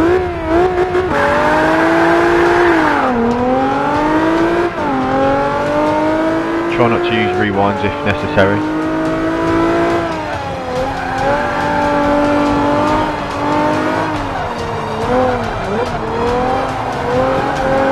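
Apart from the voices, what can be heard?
car engine sounds in Forza 5 video game, Abarth 500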